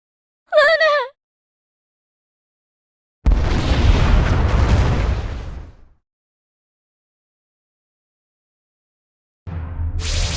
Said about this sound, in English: The explosion was massive. It literally shook the moon.